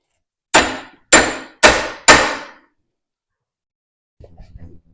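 Four sharp, ringing hammer strikes on metal land in a steady rhythm, close and loud, followed by silence and a faint rustle, while working on a Fordson Major tractor.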